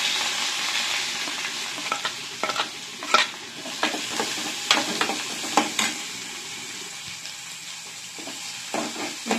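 Curry leaves and onion sizzle in a pan as they are cooked for kudhiraivali rice vegetable paniyaram. A steady frying hiss runs underneath, broken by repeated scrapes and clacks of a spoon stirring.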